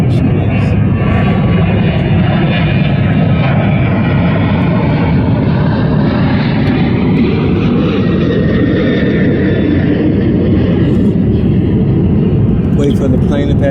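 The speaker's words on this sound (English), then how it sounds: "Wait for the plane to pass." An airplane passes overhead as a loud, broad engine roar that swells and lingers for the whole stretch, drowning the surroundings, with a person's voice faintly present beneath it.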